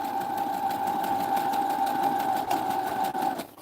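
A sewing machine stitches through paper and fabric in a fast, even run of needle strokes over a steady motor whine, close and continuous, slowing slightly at the end.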